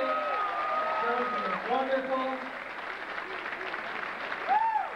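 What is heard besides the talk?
audience applause at an entertainer contest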